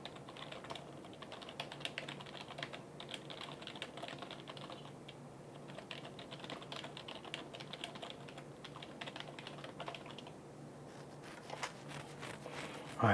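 Fingers tap rapidly on a computer keyboard during a live-streaming PC build, a quiet, continuous patter of keystrokes with brief irregular pauses, alone with no talking.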